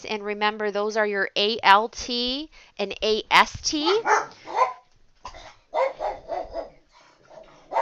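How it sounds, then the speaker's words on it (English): Several sharp dog barks up close at the start, followed by a person speaking while barking continues faintly in the background. "sorry about the barking there"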